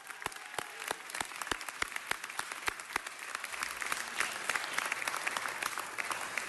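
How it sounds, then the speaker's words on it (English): An audience gives a round of applause for a judge at a formal gathering, with crisp, distinct claps at first that thicken into denser, continuous clapping. "Let's give her another round of applause"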